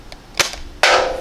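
Biu-Blaster Winchester toy blaster fires a dart with a sharp pop after a couple of quick clicks from chambering, then a brief hiss of air.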